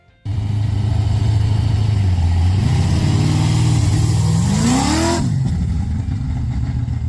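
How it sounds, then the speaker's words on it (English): A 1969 Plymouth Barracuda muscle car engine runs loud and close, starting abruptly with a steady rumbling growl, then rising in a rev before cutting back down, with no talking. "the Barracuda delivers a satisfying growl that can make any drive a thrilling experience"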